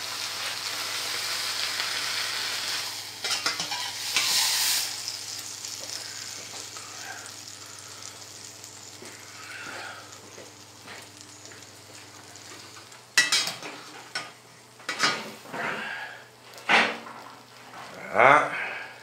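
Ground meat for a giant hamburger frying in a pan, a steady soft sizzle with occasional stirring scrapes, fading toward the end as louder clatter and brief movements take over.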